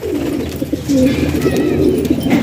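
Pigeons coo in low, throaty murmurs, overlapping and continuous, with a faint higher bird call now and then in the background.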